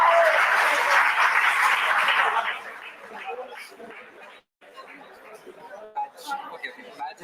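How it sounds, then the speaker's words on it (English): Audience applause at DevFest Vizag 2023 on the main stage for a quiz winner, loud dense clapping for about two seconds that thins out into scattered claps and crowd chatter. "A huge round of applause."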